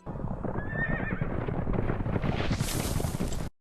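A horse whinnies over steady clip-clopping hooves and rushing noise in a scene from the animated series Blue Eye Samurai, the neigh rising brief and high partway through.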